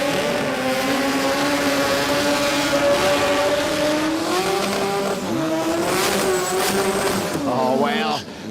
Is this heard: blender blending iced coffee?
no